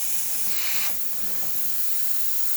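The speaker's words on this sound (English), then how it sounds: "then we're going to test the steam" A Breville espresso machine's steam wand hisses in a steady, loud burst, the jet strongest at first and settling into an even rush of steam.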